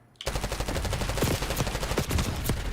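Rapid automatic gunfire in a video game, a dense sustained burst of shots that starts abruptly and continues loudly throughout, with a few heavier impacts mixed in.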